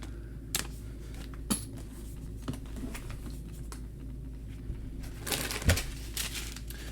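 Small keys from a Gibson guitar case are handled close by, making a few scattered light clicks and metallic jingles over a quiet background hiss.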